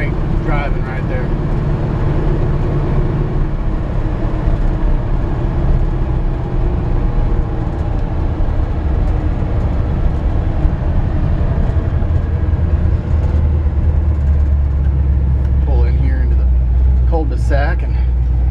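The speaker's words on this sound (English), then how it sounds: "Drives nice and straight down the road." A 1962 Chevrolet C10 pickup truck cruising down a road gives a steady, loud rumble of engine and road noise that runs unbroken from start to finish.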